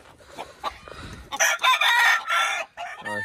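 A gamecock rooster in a farm cockfighting yard crows loudly and close up in a long, drawn-out call, preceded by softer clucks and rustling, with a short cluck-like burst at the end.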